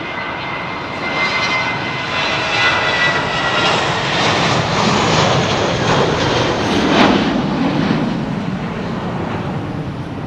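A jet airliner takes off at London Heathrow Airport in wet weather, its engines a loud, sustained roar with a rushing broadband whine that swells slightly and holds steady, with no talk.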